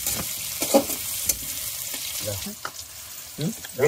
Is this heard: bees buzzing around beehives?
no